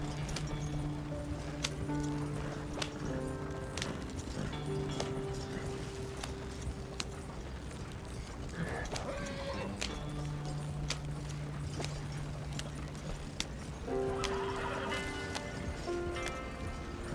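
Horse hooves clip-clop at a gallop in a video game, a steady rhythmic pounding under background game music that carries on throughout.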